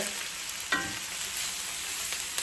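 Chicken breasts sear hard in a hot pan, giving a constant close frying hiss with a couple of sharp spits or taps, no speech over it.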